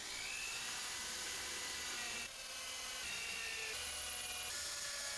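A power drill bores and countersinks screw holes in wood while building a rain barrel pumping station, whirring steadily and continuously at moderate level with small shifts in pitch, with no talk.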